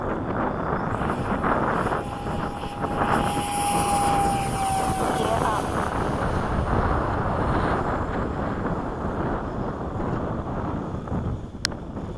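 A Skysword model airplane flies in the evening over a large runway on a calm, windless night, its engine a steady buzzing drone that holds loud throughout, with a brief whine passing partway and a sharp click near the end.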